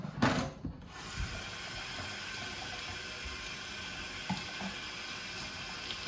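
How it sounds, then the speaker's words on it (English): Water runs steadily from a kitchen tap as hands are rinsed clean after handling shredded beef, a continuous close splashing hiss with a few small knocks and clicks, no voices. "Give your hands a quick wash because you've been handling meat."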